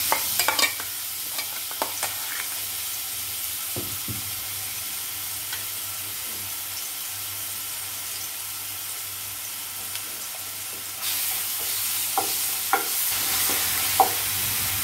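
Coarse ground paste for wood apple chutney frying in oil in a pan, a steady hiss with scattered stirring knocks, the sizzle growing louder and brighter toward the end, no speech.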